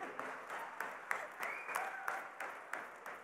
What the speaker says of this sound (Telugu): వాళ్ళందరి కోసం మళ్ళీ ఒకసారి క్లాప్స్ కొట్టండి.